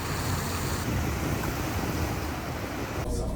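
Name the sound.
river flowing through an Alpine town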